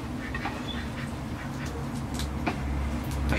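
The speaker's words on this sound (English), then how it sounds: "I hear the ducks outside." Ducks quacking repeatedly outdoors, at a moderate distance, over a constant low background hum.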